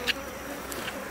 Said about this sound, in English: you can see there's still a lot of bees in this original hive